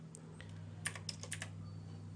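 Someone types a captcha on a computer keyboard: a few quiet, scattered key clicks over a low, steady electrical hum.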